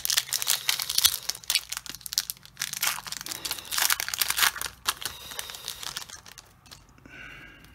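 Close, continuous crinkling and tearing as tape is stripped from Pokémon booster packs, busy rustles that fade out near the end.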